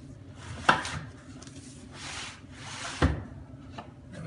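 A heavy household appliance is dragged out across a floor in two stages, with scraping and rubbing broken by two sharp knocks, close and fairly quiet.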